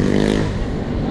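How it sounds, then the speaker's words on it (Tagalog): Motorcycles roar past near a multi-level parking structure by the Pasig River Esplanade and Quezon Bridge in Manila, a short, loud burst of engine noise with gritty rumble, close by. "Ingay nun, mga motor."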